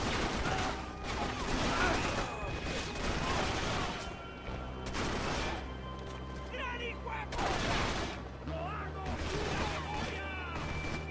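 Rapid bursts of gunfire in the Max Payne shooting game, repeated volleys of shots with a player talking over the action.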